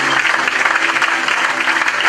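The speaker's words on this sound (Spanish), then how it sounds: "Den un aplauso fuerte al Señor" Church congregation applauding together in a dense, steady burst of clapping, loud and close, filling the room without a break.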